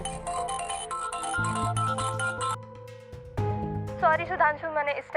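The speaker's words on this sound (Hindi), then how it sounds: "अननोन नंबर है, देखो तो किसका फोन।" A phone rings with an incoming call from an unknown number, playing a melodic electronic ringtone that repeats in bright phrases and is briefly interrupted. People speak over it in a domestic drama scene.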